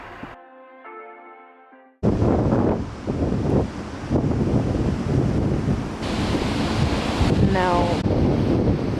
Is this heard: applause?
no